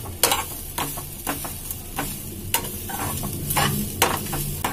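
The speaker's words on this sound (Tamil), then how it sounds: "இதை வந்து நம்ம நல்லா மிக்ஸ் பண்ணி விட்டுக்கலாம்" Grated coconut stirred in a pan for coconut rice, with repeated close scraping strokes of a spoon against the pan over a soft, steady sizzle.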